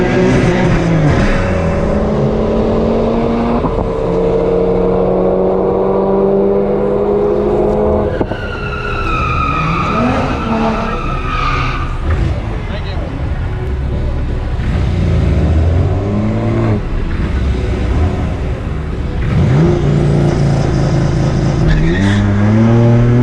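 Two cars, a Toyota Supra and a BMW M4, race side by side: loud continuous engine roar with rising and falling revs through gear changes, close and steady for the whole stretch, with faint tire noise.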